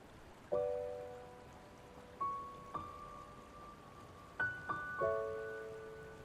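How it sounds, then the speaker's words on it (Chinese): Rain falls as a steady, even hiss throughout. A few clear, ringing bell-like chimes strike over it and decay slowly, and no one speaks. "下雨了"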